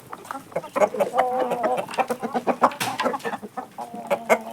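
Chickens and roosters on a laying-hen farm clucking busily while eating feed, a dense close chorus of short overlapping clucks with no talk.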